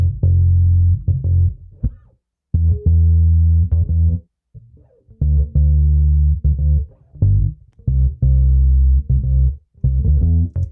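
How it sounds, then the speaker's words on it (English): A simple synth bass pattern, heard alone as deep, distorted notes in short rhythmic phrases separated by brief gaps, ending with a small fill. "let me show you the bass part really quick."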